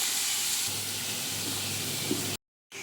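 Onions sizzle and hiss steadily in ghee in a pan with green and dried chillies, a continuous close frying sound that cuts off abruptly near the end.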